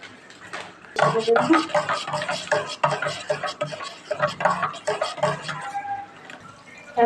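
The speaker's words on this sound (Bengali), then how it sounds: "এবার আমি দুধটা গুলিয়ে নেব" A spoon clinks and scrapes rhythmically in a pot while milk powder is stirred into hot water on a gas stove, close and steady for several seconds, with faint talk in the background.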